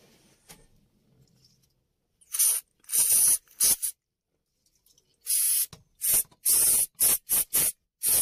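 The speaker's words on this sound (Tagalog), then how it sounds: "So lilinisin ko naman po ng contact cleaner po" Contact cleaner sprayed onto the electrical sockets of a HOWO 420 truck: a couple of short hissing bursts, a pause, then a quick run of sharp, close spray blasts with brief gaps between them.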